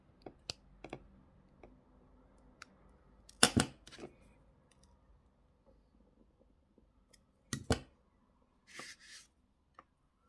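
Wire cutters snipping wire while wrapping earrings, with a few sharp close clicks and snaps separated by quiet handling noises.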